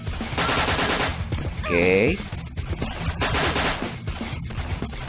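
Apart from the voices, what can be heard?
gunfire in the video game Banzai Escape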